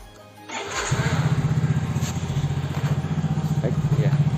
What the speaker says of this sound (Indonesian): Kita nyalakan atau kita starter mesin dari motornya.